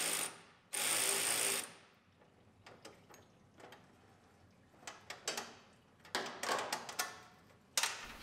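A ratchet works loose the radiator bolts on a 1965 Ford Mustang: a long rapid run of clicking at the start, then scattered bursts of clicks and metallic knocks, close and fairly quiet, with no talking.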